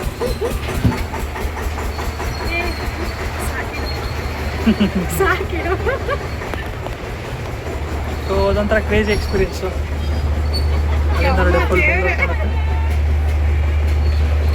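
A small fairground train at the Kadlekai Parishe groundnut fair in Basavanagudi rumbles along with steady clattering and engine hum, while people talk over it throughout.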